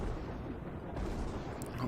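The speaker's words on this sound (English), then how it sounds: "The explosion right in the middle of them." Explosion among enemy troops in the video game Total War: Warhammer 2, a loud, dense, low rumbling battle roar that stays heavy and sustained throughout, with no distinct separate blasts.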